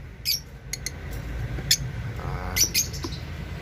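Cockatiels give short, sharp chirps in scattered bursts over low background rumble, close by and fairly clear.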